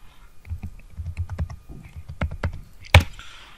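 Light plastic clicks of typing on a computer keyboard, irregular taps close by with one sharper key hit near the end, no talking.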